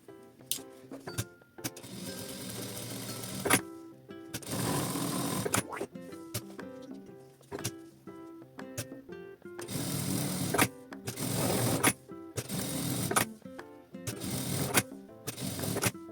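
Sewing machine stitching a small crossbody phone bag, with repeated bursts of rapid mechanical whirring separated by short pauses and clicks, close and clear.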